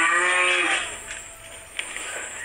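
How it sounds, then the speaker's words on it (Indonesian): A cow gives a single loud, drawn-out moo at close range, fading into quieter background noise with a brief knock near the end. "sapi ini kencotan"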